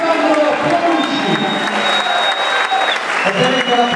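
A boxing crowd at a New Boxe event in Ostia Antica applauds the points verdict, steady loud clapping with cheering mixed in and voices talking over it throughout.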